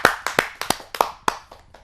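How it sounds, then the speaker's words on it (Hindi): Scattered, distinct handclaps sound at a Hindi poetry gathering, roughly seven sharp claps in an uneven rhythm that thin out and fade rather than build into full applause. "आइए जोरदार तालियों से उनका स्वागत करते हैं"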